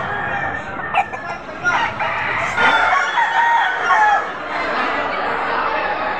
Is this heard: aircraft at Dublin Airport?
no